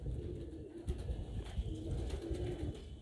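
A breeder male pigeon of quality stock coos softly in low, throaty murmurs, faint and close, with no voices over it.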